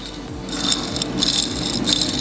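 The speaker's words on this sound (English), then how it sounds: "It's time to replace the bearing. You don't want that grinding at all." A worn bearing on a Birel AM29 go kart grinds and rattles continuously, a close, rough metallic scraping with a steady, slightly pulsing texture and no talking.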